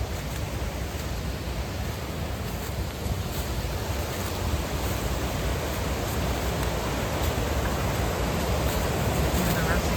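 A waterfall on Brooks Bank Creek roars in a steady, broad wash of rushing water, heard close up and continuous with no pauses.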